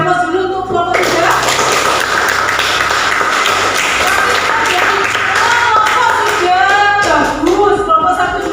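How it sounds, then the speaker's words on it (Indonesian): A classroom of students claps in applause for a group after its presentation, steady dense clapping that fills the whole stretch, with some voices mixed in. "Beri aplaus dulu untuk kelompok 3."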